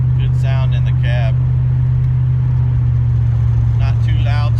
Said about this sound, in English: Exhaust has a nice rumble to it.